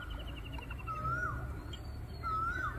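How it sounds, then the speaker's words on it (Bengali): Birds call beside the stony Tipkai river, with two clear whistled calls standing out over a quiet, steady background murmur. "কি সুন্দর পাখি ডাকতেছে।"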